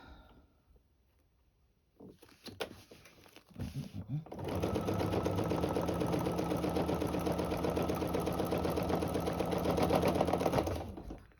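A sewing machine stitches a quilted table runner, starting with a few short bursts and then running into a long, steady, fast mechanical whirr that stops near the end.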